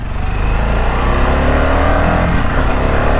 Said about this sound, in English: a bit clunky coming up through the quick shifter